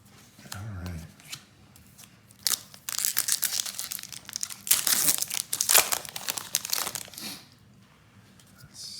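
Booster packs of War of the Spark trading cards being crinkled and torn open, with bursts of crisp plastic-foil rustling and crackling at close range, rising and falling in bunches between a few quiet pauses.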